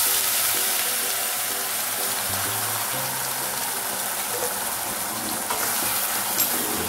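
Green masala, cumin, curry leaves and a pinch of asafoetida fry in a pan for a sprouted-bean usal. The frying makes a constant, close, hissing sizzle with no pauses.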